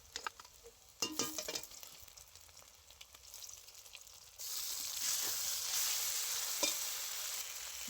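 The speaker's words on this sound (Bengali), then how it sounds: "এবারে দিয়ে দিচ্ছি বেটে রাখা মশলা।" Ground spice paste of dried red chilli, cumin and coriander hits hot oil with fried onion, ginger and garlic, with scraping stirs at first, then a sudden loud, steady sizzle that carries on to the end.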